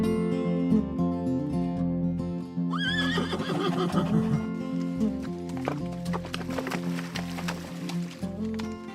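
A horse neighs loudly with a rising whinny near mid-clip, accompanied by clip-clopping hooves and musical tones underneath.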